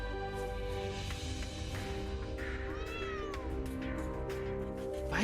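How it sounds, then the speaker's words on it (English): A cat in the video game Trails of Cold Steel 3 lets out a single clear, rising-and-falling meow midway, over steady game music and ambient sound. "Why is there a random cat there?"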